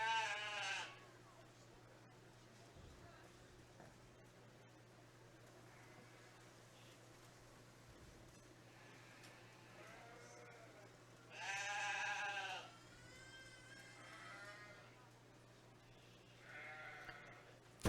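Sheep at a 4H show bleat in a few separate calls, moderately loud over a constant low hum, with long quiet gaps between the cries.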